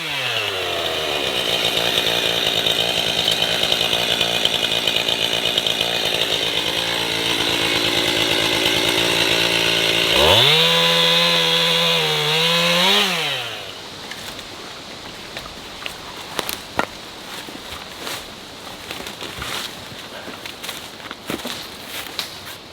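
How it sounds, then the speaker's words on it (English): A Ryobi chainsaw runs steadily while cutting through fallen trees at a wooded build site, then revs with a rising and falling pitch and cuts off, leaving quiet outdoor sounds and scattered knocks. "I got my chainsaw unstuck,"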